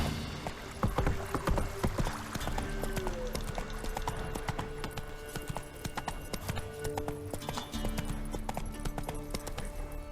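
A horse gallops in The Witcher 3, its hooves drumming a fast, continuous clip-clop beneath layered game music and ambient sound.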